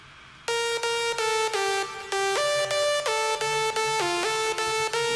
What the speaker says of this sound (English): I have this layer, Ultrasonic Lead Mad